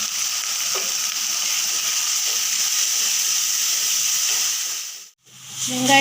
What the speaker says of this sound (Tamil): வெங்காய பேஸ்ட்டு, இஞ்சி பூண்டோட பேஸ்ட்டு நல்லா வதக்கியாச்சு